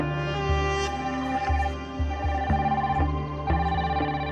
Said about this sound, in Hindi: बेल जा रही है, बेल जा रही है।